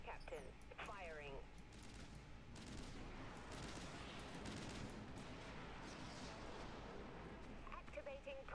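Spaceship weapons firing during a battle in the video game Dreadnought, a dense run of booming blasts and rumbling bursts over a continuous roar, with brief synthetic tones and a voice heard near the start.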